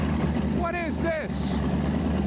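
The Bigfoot Fastrax monster truck idles with a low, steady rumbling drone at a 1989 USHRA event in Houston, while someone talks briefly over it.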